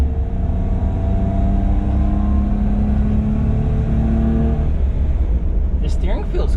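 A Daihatsu Midget 2 engine rumbles steadily under hard acceleration onto a freeway, a loud, sustained low drone heard from inside the cab, with a brief voice near the end.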